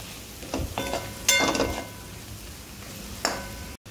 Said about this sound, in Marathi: ती भाजी चांगली अशी परतायची आहे